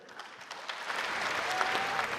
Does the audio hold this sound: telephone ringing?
no